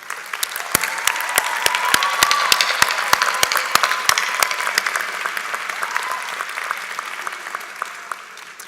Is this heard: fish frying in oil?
no